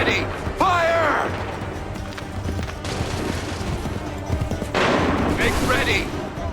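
Musket volley on command in Assassin's Creed III, a burst of crackling gunfire with booming impacts amid shouted orders, crowd noise and battle din throughout.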